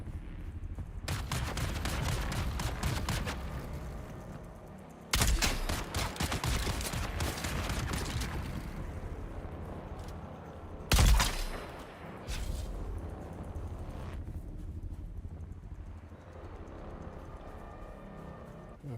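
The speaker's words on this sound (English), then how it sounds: "who's shooting at me?" Gunfire in the video game Dune Awakening, long rattling bursts of rapid shots in separate stretches, fairly close and steady, with a sharp heavier blast partway through and quieter lulls between volleys.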